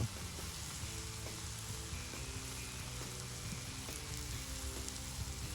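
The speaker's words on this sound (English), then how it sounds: "keep your bread and meat on the flat grill for another 45 seconds or so" Chicken and bread sizzle on a flat grill at a campsite as gyro fixings cook, a steady, even crackling fry that runs unbroken and fairly quiet with no voices.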